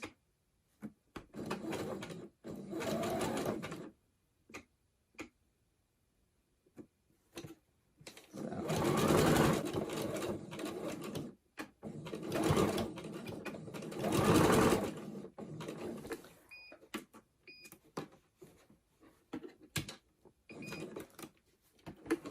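A sewing machine runs zigzag stitches along the bottom of a fabric tote bag, several bursts of rapid whirring with pauses between them, loud and close.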